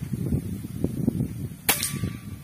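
A single sharp crack from a Leopard 460cc PCP air rifle fires once, loud and close, over a faint outdoor background murmur.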